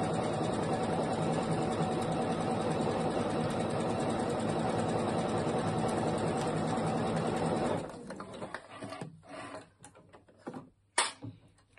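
A normal sewing machine runs a zigzag stitch to make fabric binding, a loud, steady, rapid mechanical whir for about eight seconds. It then stops, leaving scattered handling clicks and rustles of fabric.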